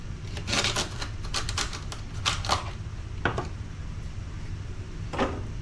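A knife cuts up six celery stalks on a board, with a series of crisp, irregular close-up taps and chops clustered in quick bursts and then spaced-out strokes.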